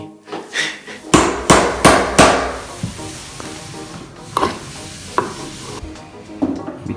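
A small hammer strikes repeatedly at close range, sharp hard knocks in uneven bursts, some loud and some softer, with scraping and rattling between the blows.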